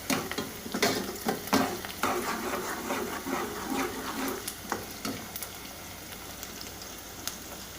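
Chopped onions frying in a pan for a chicken and capsicum (shimla mirch) dish, with steady crackling sizzle and occasional stirring scrapes, louder at first then settling into a softer, even fry.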